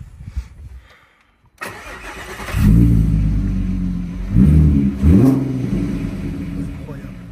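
A Volkswagen Golf 5 R32 engine cranks and catches, then settles into a deep, close idle rumble with two brief throttle blips. A person speaks early on, before the start.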